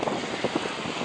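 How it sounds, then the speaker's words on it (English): Wind of about 15 to 16 knots blowing across a sailboat at sea, a steady rushing buffet against the microphone with low flutters and gusty pulses throughout. "The wind's down to 15, 16 knots now."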